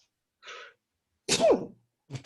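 A single sharp sneeze, close by, with a short breathy intake before it and a brief sound after.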